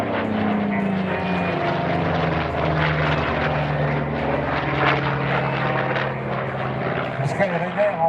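Douglas Skyraider propeller aircraft flying at an airshow, a steady loud droning engine roar that holds throughout, with someone talking over it.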